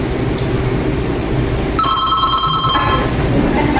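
A telephone rings as a comedic sound effect in a Memorial Day presentation about Betsy Ross's embroidery shop, with two steady electronic trill bursts sounding clearly over a constant low background hum.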